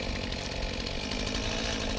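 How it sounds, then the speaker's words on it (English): Chainsaw running steadily through a tree trunk under heavy pressure, its engine loud and close, a dense continuous roar as the bar gets pinched in the cut. "There's a lot of pressure, I guess, on this tree because I just pinched my chainsaw."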